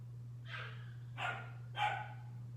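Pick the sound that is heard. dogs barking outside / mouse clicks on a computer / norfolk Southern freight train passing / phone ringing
dogs barking outside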